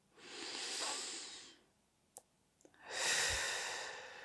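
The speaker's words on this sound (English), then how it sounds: "Take a couple of deep breaths in" Slow, deep meditative breaths: a long airy inhale, a quiet pause with small clicks, then another long breath, close and soft with no talking.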